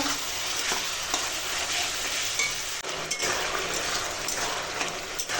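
Tomato chutney with cashews, raisins and sugar being stirred in a hot pan, a steady bright sizzle with occasional utensil knocks and scrapes.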